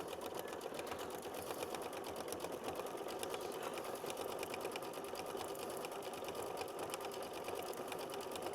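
A sewing machine runs steadily, stitching a cross weave pattern into the body of a quilted butterfly, with a fast even mechanical chatter close up and no talking.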